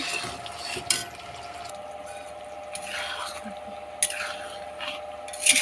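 Spice masala sautés in oil in a pot as the lid comes off, a soft steady sizzle with wet stirring and squishing, a few clinks of the lid or spoon, and a voice talking over it.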